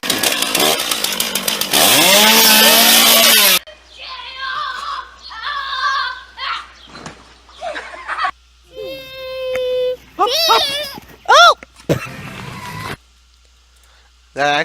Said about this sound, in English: That chainsaw just fell apart.